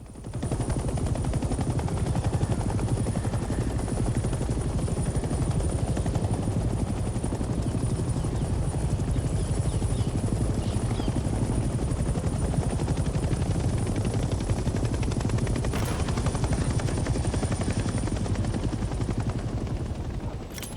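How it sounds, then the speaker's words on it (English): A helicopter engine in the video game Hell Let Loose: Vietnam roars continuously for about twenty seconds, a loud, dense, unbroken rotor and turbine drone that stays level throughout with no voices. "Land the helicopter on a helipad and turn the engine off."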